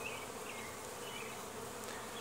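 A steady, dense hum of many bees flying close by at a hive entrance, continuous and unbroken throughout, with no voices.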